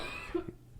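A single close cough rings out amid vape-filled air, a short sharp burst standing alone after a brief pause.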